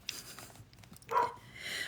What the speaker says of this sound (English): I'm going to read a little bit to you in between my dog's barking